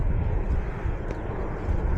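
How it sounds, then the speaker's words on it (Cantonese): A low-flying airplane passes overhead on a trip in Egypt, a dull, steady engine rumble with wind-like roar and no clear voices. "影低架飛機"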